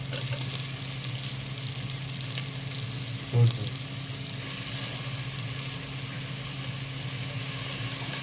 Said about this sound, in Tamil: இப்போ வந்து நம்ம கட் பண்ணி வச்சுருக்க தக்காளியை சேர்த்துக்கலாம்